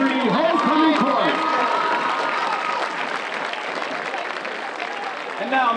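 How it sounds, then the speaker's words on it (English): A large crowd at a high school varsity football game claps and cheers for the 2023 homecoming court, dense applause holding steady throughout with a few whoops and shouts rising above it. "Big round of applause for our 2023 Homecoming Court."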